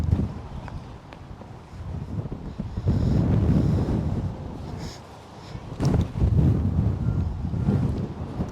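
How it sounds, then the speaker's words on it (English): Strong wind gusting outdoors at a disc golf throwing field, roaring in surges across the microphone as a loud, low rumble that swells and eases, with no talking. "That wind is really tough."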